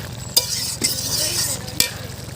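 Ground fried spice is stirred into a papaya and potato curry in a hot pan, with a few sharp scrapes of the spoon over a continuous sizzle, close up.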